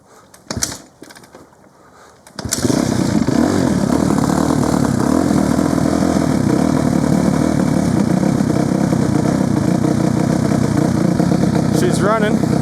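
Dirt bike engine fitted with a TEMU muffler cranks after a brief quiet spell, catches and settles into a steady, loud, continuous idle running close by for the rest of the time.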